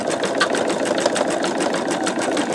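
An embroidery machine stitches out a sugar skull design with a rapid, steady mechanical chatter of needle strikes, close and continuous.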